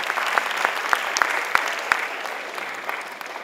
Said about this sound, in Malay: Kita beri tepukan.